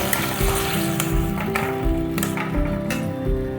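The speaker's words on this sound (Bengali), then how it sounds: "খুন্তির সাহায্যে ভালো করে আমি ম্যাশ করে নেব" A spatula taps and scrapes in a pan while potato, flat beans, eggplant and tomato are mashed into a bharta, giving soft rhythmic thuds over a steady sizzle of frying.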